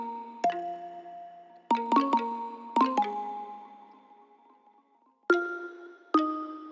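Electro X bell preset in FL Studio plays a sparse melody of bright, ringing bell-like notes in short clusters with long decaying tails and pauses between, clean and alone.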